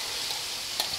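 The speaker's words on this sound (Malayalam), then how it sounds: "ഇപ്പം ഞാൻ സവാള ഇതിലേക്ക് ഇട്ട് കൊടുക്കണേന്ന്." Six finely chopped onions hitting a hot pan for Fort Kochi-style potty curry, with a brief, steady sizzle and a small spike of spatter near the end and no voices.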